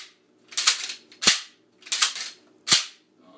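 Remington 11-87 Sportsman shotgun having its action cycled by hand after cleaning: four sharp metallic clacks in two pairs, each bolt pull rasping back and then snapping forward, close and loud with no talk.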